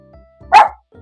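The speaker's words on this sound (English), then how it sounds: "A neighbourhood dog has decided to bark" A neighbourhood dog barks once, fairly loud and close, a short sharp burst in an otherwise quiet moment with faint background murmur before and after.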